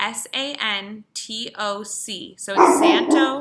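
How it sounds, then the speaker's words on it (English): A pet dog barks loudly in a home, mixed in with a person speaking, with the barking most prominent toward the end. "Sorry, that's my dog."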